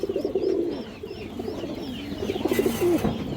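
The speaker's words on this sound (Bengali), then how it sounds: "এক পেয়ার বাঘা কবুতর আছে মাশাআল্লাহ" A pair of Bagha pigeons coos close by in a series of soft, warbling, rolling calls that rise and fall with short gaps. No voices are heard.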